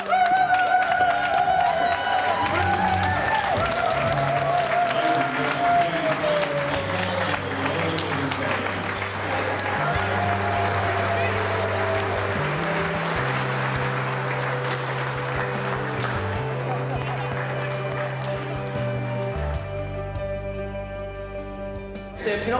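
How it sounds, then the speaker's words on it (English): An audience at a farming award ceremony applauds the gold-winning team, sustained clapping from a crowd over music that continues throughout, with voices now and then beneath. "So if you can all just give them a clap because I think they really deserve it"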